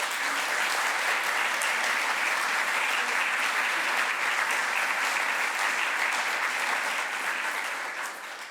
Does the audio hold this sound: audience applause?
yes